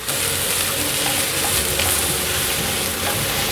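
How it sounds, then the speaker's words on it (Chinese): Carrots and yellow bell pepper stir-frying in a pan, a steady loud sizzle with a faint scraping of stirring, holding even throughout and no voices. "先推去旁边，把红萝卜放进来炒，还有黄甜椒"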